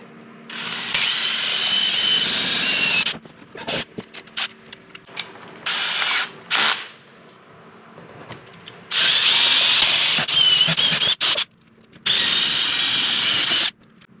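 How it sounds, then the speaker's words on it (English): A power drill drilling up through a 3.5-inch-thick RV roof whirs in several long bursts with short pauses between, close and loud, plus scattered clicks and handling knocks. "we have to drill this through"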